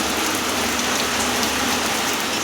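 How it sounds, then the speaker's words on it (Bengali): Heavy rain pours down in a steady, dense hiss that stays loud and even throughout, with no voices. "বৃষ্টি নেমেছে খুব জোর"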